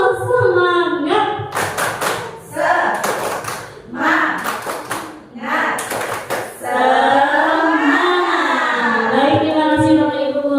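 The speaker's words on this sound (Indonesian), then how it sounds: "Baik, tepuk semangat." Teachers join in rhythmic 'tepuk semangat' spirit clapping: four short clusters of brisk hand claps sound close and loud, separated by stretches of chanting and talking voices.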